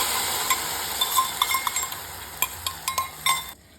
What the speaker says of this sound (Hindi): हम मसाले वाले दही को कढ़ाई में डालेंगे